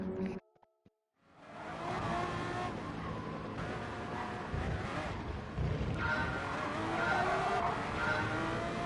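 A racing car in Gran Turismo Sport launches from a brief silence into a sustained loud engine roar with squealing, skidding tyres, the revving rising and shifting throughout.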